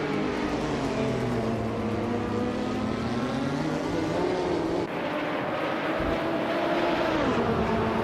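A Mazda 787B race car with a rotary engine droning steadily at high revs, a loud, continuous buzzing engine tone that shifts pitch midway as it runs.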